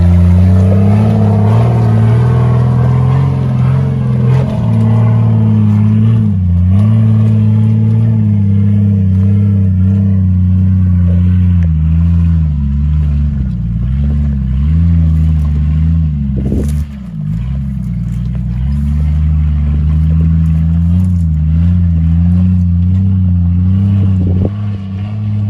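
Engine of a lifted Jeep Grand Cherokee ZJ labouring up an offroad hill, a loud, steady low drone that rises and dips as the throttle changes, with a brief bump partway through.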